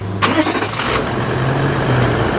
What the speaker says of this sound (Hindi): एक बार इसे स्टार्ट करता हूँ और V8 इंजन की जो आवाज़ है वो एक बार आपको सुनवाता हूँ।